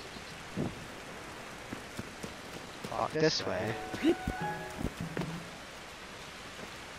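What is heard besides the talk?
rain falling in the video game Tears of the Kingdom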